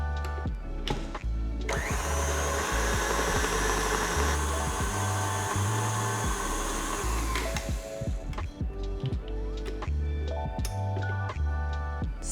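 A stand mixer whisks meringue to stiff peaks, a loud steady motor whir with a rhythmic beating churn that runs continuously and shifts slightly in pitch partway through, with no voices.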